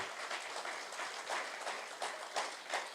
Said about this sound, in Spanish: Denle un aplauso de entusiasmo al Señor.